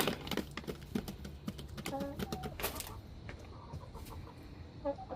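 Chickens cluck and rustle inside a backyard chicken coop and run, with scattered close clucks and some brief vocal bursts over a busy, moderately loud background of movement and clicking.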